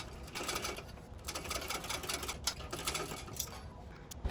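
A sewing machine stitches a bag in a steady, rapid whir. The run stays close and continuous, with brief pauses and slight changes in pace, and no talking.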